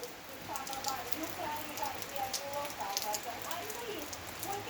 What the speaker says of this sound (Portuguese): E continua a chuva.